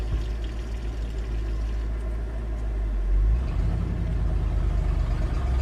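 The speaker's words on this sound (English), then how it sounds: "Truck sounds meaty today." A truck engine idling with its exhaust fallen off, a steady, loud, deep rumble that swells slightly partway through and then holds.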